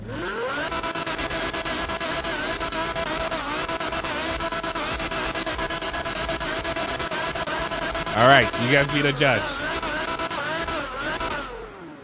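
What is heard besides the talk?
sports car engine revving in video game GTA 5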